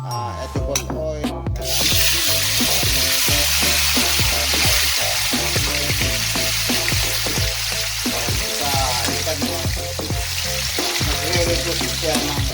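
Tofu frying in canola oil gives a loud, steady sizzle close by, with quick repeated clacks of stirring and tool strikes throughout.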